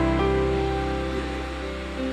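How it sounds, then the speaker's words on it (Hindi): An empty plastic bottle held under water as it fills: a steady close gurgle and rushing flow with rising tonal bubbling, continuous and fairly loud throughout, no speech. "ये देखो ये खाली बोतल है हमारे पास, इसको हम इसके साथ यूँ पानी में भरेंगे।"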